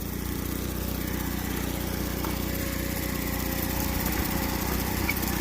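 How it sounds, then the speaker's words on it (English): A 4-stroke blower idles on a Royal Explorer drywasher, making a steady, close engine drone that holds an even level throughout with no talk. "Blowers, 4-stroke blowers just on idle."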